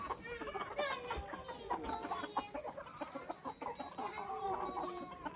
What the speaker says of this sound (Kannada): ಕೋಳಿ ಎಲ್ಲ ವೇಟಿಂಗ್ ಫಾರ್ ಸ್ನ್ಯಾಕ್ಸ್.